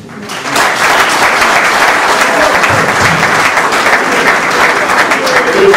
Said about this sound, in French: Je voudrais que les 4 êtres fédéraux soient applaudis.